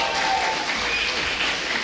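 A crowd at a StarCraft II tournament applauds and cheers steadily, loud and continuous throughout.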